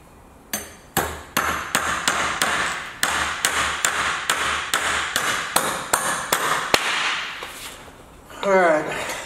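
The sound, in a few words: hammering in an anchor bolt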